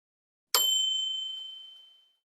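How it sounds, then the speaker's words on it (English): A single bell rings somewhere in a house: one sharp strike followed by a clear, pure ringing tone that fades away over about a second and a half, heard alone in silence. "From somewhere in the house, a bell rang."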